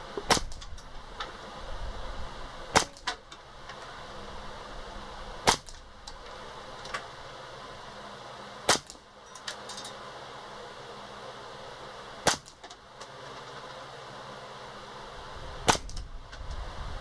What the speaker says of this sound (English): Running suppressed rounds through a suppressed rifle.